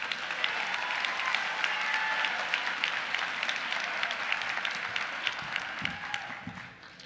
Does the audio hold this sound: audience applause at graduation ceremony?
yes